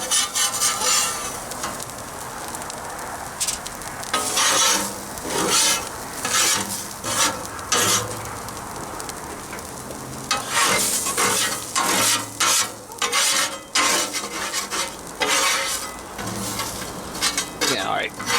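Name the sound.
scraping burnt onions off a griddle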